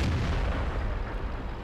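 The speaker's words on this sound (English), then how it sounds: "The artillery drops a shell right on him." Artillery shell landing on a tank in the World of Tanks video game, a loud, dense roaring blast that fills the short moment and slowly decays, with no voices.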